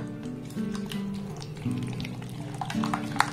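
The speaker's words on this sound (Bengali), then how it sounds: "ব্যাটারটাকে কিন্তু 5 থেকে 7 মিনিট সময় ধরে এইভাবে খুব ভালোভাবে কিন্তু ফেটিয়ে নিতে হবে" Pumpkin and gram flour batter being whisked in a bowl makes soft, repetitive wet stirring and light tapping, running continuously under a faint tonal background hum.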